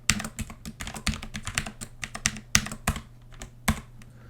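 Rapid, uneven keystrokes on a computer keyboard as a password is entered, close and crisp with brief pauses between bursts of clicks and no talking.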